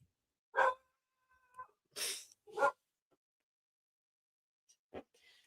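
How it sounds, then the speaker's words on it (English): A small dog lets out a few sharp, separate barks and huffs, loud and close, spaced out with silent gaps between them. "my little dog, she thinks she's got a foghorn in her throat"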